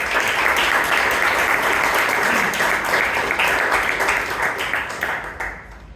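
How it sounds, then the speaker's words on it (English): Dense, sustained applause from an audience at a Bangalore Toastmasters club meeting rings steadily for several seconds before thinning and fading out at the end. "We give an applause to Nitesh."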